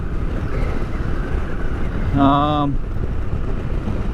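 A Royal Enfield motorcycle rides out of town on an Australian highway, with steady roaring wind noise throughout and a brief tonal sound partway through.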